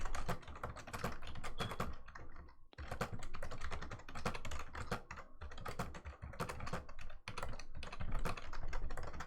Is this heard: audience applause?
no